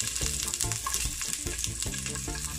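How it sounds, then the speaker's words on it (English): Onions and garlic sauté in a little coconut oil, a dense continuous sizzle with repeated scraping stirs, close and fairly loud with no talking. "I'm gonna saute some onions and garlic, and I'm gonna add a little bit of coconut oil"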